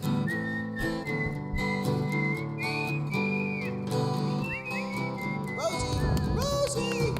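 Sustained melodic whistling that calls out to Rosie, a dog, with gliding and wavering pitches over a dense backing of music, loud and continuous.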